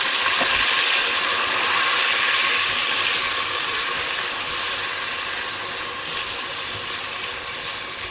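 Whole spices in hot oil in a pot for degi biryani hiss and sizzle steadily as ginger-garlic paste and ground chillies go in, a loud, dense frying roar that holds for the whole stretch with no talking.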